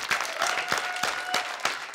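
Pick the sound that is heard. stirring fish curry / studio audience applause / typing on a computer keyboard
studio audience applause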